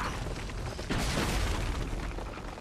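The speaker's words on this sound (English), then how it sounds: "So those things explode." An explosion in Uncharted: Drake's Fortune, a loud, sustained booming roar that swells after a second and rumbles on to the end.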